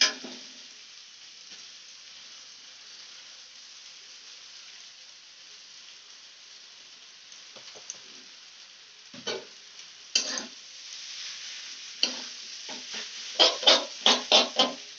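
Veg chowmein noodles go into a hot pan and are stir-fried. A faint, steady sizzle runs throughout, and toward the end it is broken by louder, quickening scrapes and knocks of stirring.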